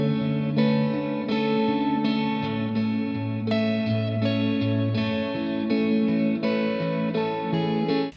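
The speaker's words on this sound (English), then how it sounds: "in verse 2, I add this nice little lead guitar" A lead guitar counter melody over the second verse of a produced track, a sustained, effects-laden line with chorus and reverb riding above steady bass and chords, alone and fairly loud.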